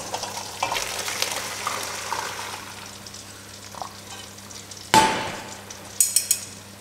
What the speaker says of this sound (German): Einmal abgießen.